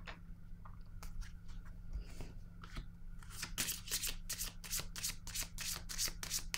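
A deck of tarot cards shuffled up close, soft handling noises at first, then a dense, fast flurry of crisp card riffles over a low steady hum, with no speech.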